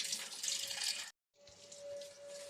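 Water pours steadily onto a dried-out plant, a soft continuous splashing stream that stops briefly for a moment and then resumes, fairly quiet.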